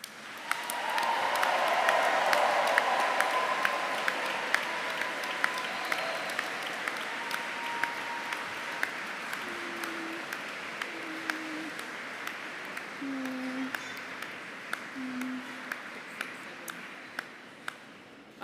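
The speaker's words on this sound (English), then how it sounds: "So can you please applaud all your supporters in return?" Graduates in Canterbury Cathedral applaud their supporters, a long, steady wash of crowd clapping with reverberant cathedral echo. Sharp individual claps stand out, and brief low tones sound partway through.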